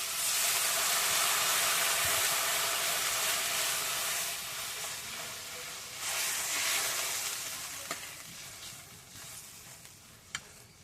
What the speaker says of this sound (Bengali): রসাটা ফুটে গেছে